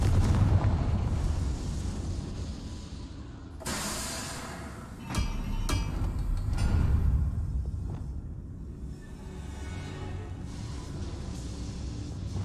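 A fire spell explosion from Hogwarts Legacy: a sudden broad blast followed by a few sharp cracks and a rumbling, crackling tail that fades, with a low ambient rumble underneath and no talking.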